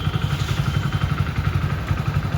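A motorcycle engine runs just after being started with the key, a close, even low putter idling with a steady rhythm and no speech.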